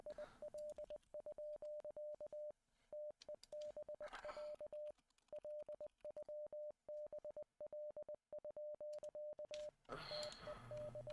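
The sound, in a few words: Morse code beeps in video game Z.A.T.O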